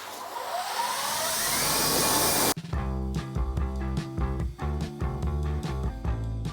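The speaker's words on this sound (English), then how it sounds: "I'll just pull the trigger, and we've got a working pressure washer." A battery-powered pressure washer spraying, a loud, close broadband hiss for about two and a half seconds that cuts off abruptly, followed by other busier sounds.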